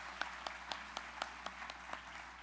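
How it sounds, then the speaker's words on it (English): A handful of people at a gala clap for event sponsors, sparse and evenly spaced, faint and thin against a quiet room with a low steady hum. "Can we give all of them a round of applause?"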